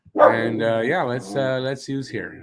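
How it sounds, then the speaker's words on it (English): A pet dog barks and yips close by, the sounds overlapping with someone talking indoors. "That's my dog, obviously."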